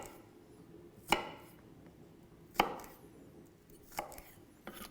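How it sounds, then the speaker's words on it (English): A knife chops onions into quarters sharply on a cutting board, three distinct cuts spaced about a second and a half apart, with a fainter fourth at the end. "Just chop these into quarters."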